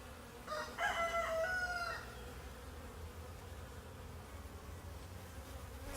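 Honeybees buzz around a newly set-up beehive on a farm, a low, steady, faint hum throughout, with a rooster crowing loudly nearby during the first two seconds.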